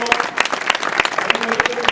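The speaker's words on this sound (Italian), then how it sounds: "E un applauso ancora" A crowd at a village festival in Borgo Ruga claps in brief regular bursts, with a voice sounding faintly beneath the applause.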